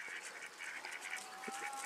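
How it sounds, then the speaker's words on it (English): Ducks and geese honk and quack among a flock near feeding dogs, several short nasal calls in quick uneven bursts, fairly faint and at a distance over soft outdoor noise. "look at the lonely duck"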